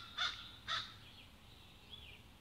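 A crow in a residential neighborhood gives two short, distinct caws about half a second apart, fairly near, followed by faint quieter calls against a low background hum.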